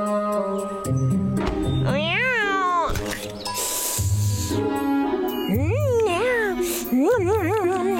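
A cartoon cat, voiced by a performer imitating meows, gives several drawn-out, wavering cries spaced across a few seconds over a steady musical background in a children's animated story.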